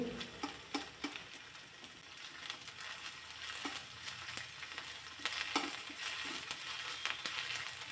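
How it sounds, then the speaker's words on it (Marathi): A spoonful of ginger-garlic paste fries in a little oil in a wok beside pushed-aside onion. It makes a steady, fairly quiet crackling hiss with frequent small pops and occasional scraping for several seconds, and no talking. "त्यामध्ये एक चमचाभर आलं लसूण पेस्ट घालायची"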